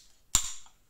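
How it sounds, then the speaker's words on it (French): A single sharp crack and hiss as a can of American soda is popped open, close up, followed by a brief fizzing fade. "On ouvre la canette."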